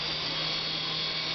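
A Syma S3.5G RC helicopter's rotor whirs in a steady, continuous high-pitched drone with a low hum beneath, close by and fairly quiet, as the craft slowly descends on a dying battery.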